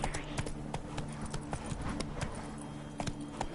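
Steady rhythmic clip-clop of horse hooves at a quick pace in the video game The Witcher 3, close by, over a low humming musical backdrop.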